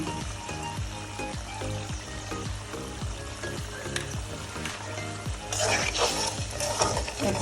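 Chicken sizzling in a pan while being stir-fried for a chicken roast, a steady hissing fry with a regular scraping stir rhythm, growing brighter and more vigorous toward the end.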